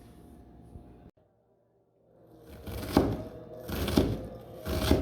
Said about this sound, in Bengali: পেঁয়াজ কেটে নিচ্ছি।